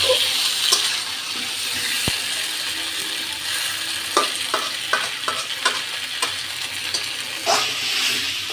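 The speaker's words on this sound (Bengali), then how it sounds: "এটাকে আমি আস্তে আস্তে নাড়তে থাকবো আর কষাবো সুন্দর করে।" A steady frying sizzle fills the background while a spatula scrapes and taps the pan in repeated strokes as chicken is stirred and browned.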